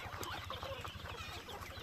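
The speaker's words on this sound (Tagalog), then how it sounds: "Gandang sukat na manok." Chickens clucking continuously at close range in a farm setting where show and breeding fowl are kept, with a steady chorus of low clucks and occasional sharper calls.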